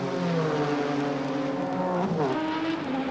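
Ex-Formula 3000 Formula Holden open-wheel race cars passing on a circuit, a loud flat-toned engine drone that sweeps down in pitch as one car goes by, with no talk.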